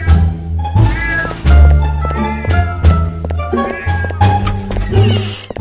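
Cartoonish cat meowing in the Scary Neighbor 3D mobile horror game, loud repeated meows and yowls over game music and thumps, close and prominent.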